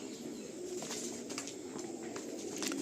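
Pigeons coo faintly inside a large loft in West Bengal, with low murmuring and a few soft wing flutters against a steady background hum.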